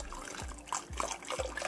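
Liquid mixed with a catalyst and coloring poured from a container, a steady close trickle and splash with a few low gulping pulses, no voices.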